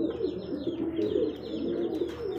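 Lahori pigeons at a farm give soft, low, rolling coos in close succession, near and fairly clear against quiet surroundings.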